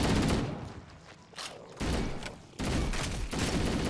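Halo: Combat Evolved gunfire plays as a few loud, dense bursts separated by short pauses, close and forceful.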